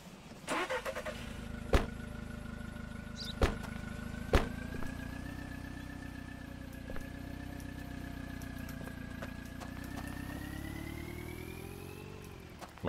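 Car engine in the Contraband Police video game turns over with a few sharp clicks, then settles into a steady idle and revs as it pulls away, holding a constant mid-pitched hum that slowly rises in pitch.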